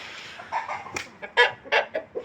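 A breeding hen clucks in a short run of close, distinct calls with brief gaps between them, with no talk over the sound.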